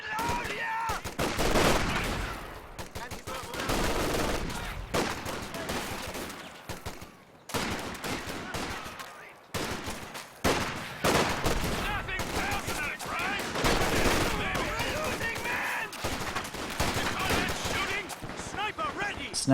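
A video game battle rattles with dense, continuous gunfire, sniper shots cracking among rapid bursts and volleys that swell and drop in waves, loud and close from start to finish.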